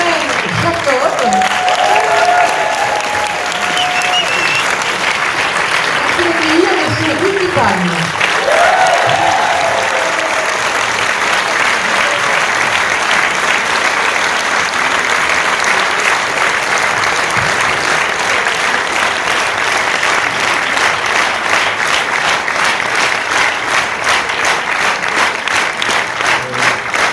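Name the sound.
audience applause at a film premiere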